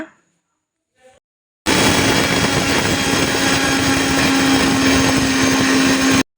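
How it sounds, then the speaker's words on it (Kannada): After a short pause, a mixer grinder grinding coriander seeds whirs loudly and steadily at high speed, a constant motor drone with gritty grinding texture. "ಇವಾಗ ಮಿಕ್ಸಿ ಮಾಡ್ಕೊಳ್ಳೋಣ"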